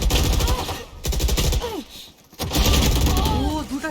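Rapid gunfire bursts from the Valorant tactical shooter during a 3 versus 3 tournament round, loud and dense, with a brief lull midway before firing resumes, plus weapon mechanism clicks.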